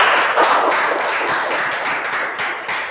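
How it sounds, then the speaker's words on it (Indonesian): A classroom of students gives a sustained round of applause, dense continuous clapping at steady strength for the full stretch, with no talk over it. "tepuk tangan buat kita semua"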